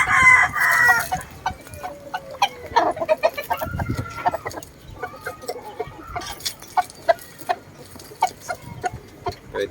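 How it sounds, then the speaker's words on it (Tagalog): Chickens sold as cheap budget poultry cluck and crow near at hand, a crowing call early and bursts of clucking through the rest, with farmyard noise underneath. "maayos na mga manok mga guys"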